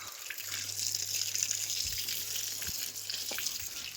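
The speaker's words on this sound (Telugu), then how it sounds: "గోడకైతే వాటర్ పట్టేస్తున్నా" Water from a motor-driven supply hisses steadily against a freshly plastered wall as it is wetted down, a continuous spray with a low, constant hum beneath it.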